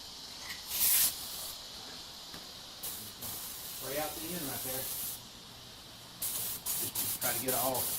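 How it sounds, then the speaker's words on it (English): A gravity paint sprayer hisses in several bursts of varying length, with a short sharp blast early on and quick stuttering pulses near the end, while a person talks at times. "Spray out the end right there."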